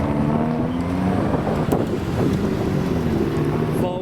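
Triumph TR2 sports car engine pulling away from a car show, a steady loud rumble with wind buffeting the microphone throughout.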